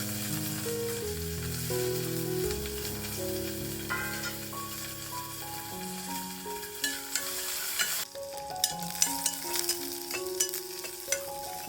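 Garlic, onion and curry leaves crackle and sizzle steadily in hot oil for tempering, with soft clinks of stirring, while music plays in the background.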